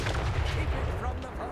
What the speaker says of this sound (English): The absolute best sound effect in this entire game is Cathay Grand Cannons